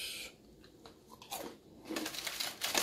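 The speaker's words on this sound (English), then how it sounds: "I'm gonna try this Oreo Thins." Close, crisp crunching and chewing of thin Oreo cookies, with several bites in quick succession that grow louder toward the end, no talking.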